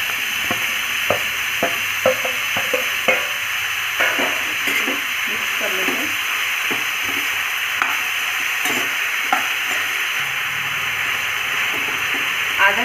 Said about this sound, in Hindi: मूली के साथ ही हम आलू भी डाल देंगे इसमें।